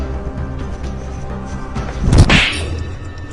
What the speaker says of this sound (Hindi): तुमने मुझे थप्पड़ मारा?